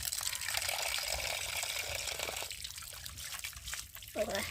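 Running water splashes over pieces of mrigal fish being washed, a steady faint trickle and pour with a closer splash near the end, under a quiet kitchen background.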